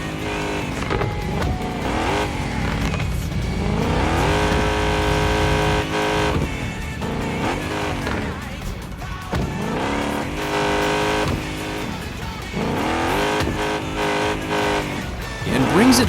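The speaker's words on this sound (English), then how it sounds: "Throwing such a big vehicle sideways like that always looks awesome." A large truck drifting in the video game Car Parking Multiplayer 2, its engine revving and rising in pitch while tires squeal continuously throughout, loud and sustained with no break.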